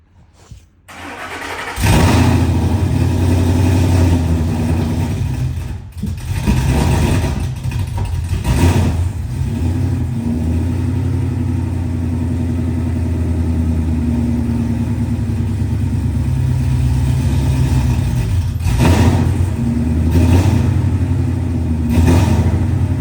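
A car engine fitted with a Boss Racing cam cranks and catches, then settles into a loping idle with a few uneven blips, close and loud throughout.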